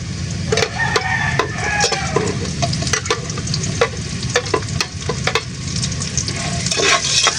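Onion fries in a pan with a continuous loud sizzle, broken by frequent sharp scrapes and clacks of a spatula stirring, close and without talk.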